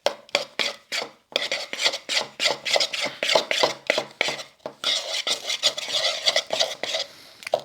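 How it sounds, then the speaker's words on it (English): A spoon stirs dry ingredients for keto, vegan peanut butter cookies in a bowl, making rapid rhythmic scraping strokes up close with brief pauses between bursts, and no one speaks. "Now I'm going to stir the dry ingredients."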